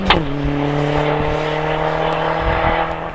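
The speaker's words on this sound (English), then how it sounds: "Mick Wilkes comes into view in this very handily packaged Volkswagen Polo GTI." Volkswagen Polo GTI racing up the hillclimb course at Harewood, a sustained, loud steady engine drone held at high revs throughout, heard from trackside.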